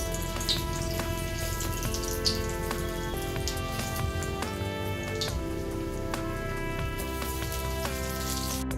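Pointed gourds (potol) frying in hot mustard oil over a low gas flame give a steady, dense crackling sizzle with rapid popping spatters, close and continuous throughout with no talking.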